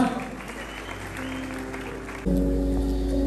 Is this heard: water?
no